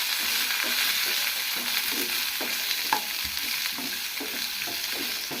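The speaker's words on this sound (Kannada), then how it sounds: "ಈರುಳ್ಳಿ ಹಾಕಿದ ಮೇಲೆ ಸ್ವಲ್ಪ ಈ ರೀತಿ ಫ್ರೈ ಮಾಡ್ಕೋಬೇಕು" Onions fry in a hot pan with a constant close sizzle, punctuated by regular scraping stirs of a spatula, with no one talking.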